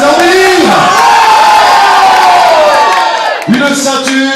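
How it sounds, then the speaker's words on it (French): An enthusiastic crowd at an amateur wrestling rumble show roars loudly and continuously, with high whoops and shouts rising over the din and a brief dip before a fresh surge. "montrer à la foule enthousiaste et en délire"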